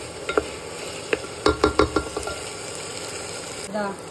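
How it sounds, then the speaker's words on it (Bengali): Dal and chopped vegetables fried together in a pan for khichuri, with a soft sizzle under a run of sharp spoon-against-pan scrapes and taps, clustered in the middle and then tapering off. "এবার ডাল আর সবজিটাকে ভেজে নেব"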